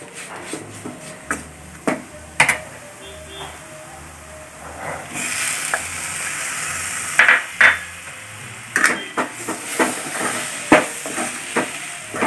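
Tomatoes added to a hot pan for a roasted-coconut chicken curry, a soft steady hiss of sizzling rising midway, with scattered clinks and stirring taps close by.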